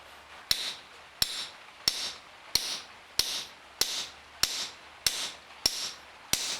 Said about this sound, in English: I can just start hammering away.